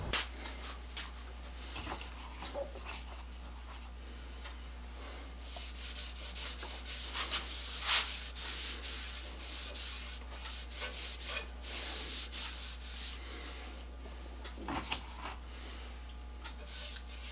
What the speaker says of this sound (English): I'll give it a coat of this Butcher Boston Amber Paste Wax